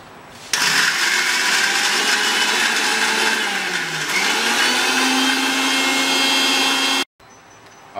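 A kitchen mixer grinder whirs loudly as it blends onion, garlic and ginger into a paste for Chicken Chettinad, starting abruptly, droning steadily with a shifting pitch for several seconds, then cutting off sharply.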